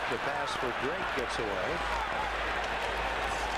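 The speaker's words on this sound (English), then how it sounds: "Crowd a little bit surprised there wasn't a penalty there" Hockey arena crowd at a 2001 Islanders at Blues game, a steady broad roar of reaction filling the whole clip beneath a commentator talking over it.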